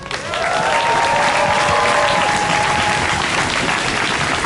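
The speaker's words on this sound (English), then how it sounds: "Give her a round of applause." Audience applause at a community talk on justice and police funding, a dense sustained clapping from a crowd that holds steady throughout, with a faint high whistle-like tone sweeping through.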